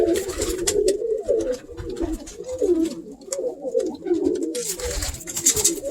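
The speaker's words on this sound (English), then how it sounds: "Look at these birds all day." Several pigeons coo continuously nearby, soft throaty calls overlapping, with occasional rustling and flutters in the background.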